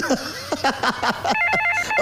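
A telephone rings with a rapid, trilling electronic tone in repeated bursts, loud and near.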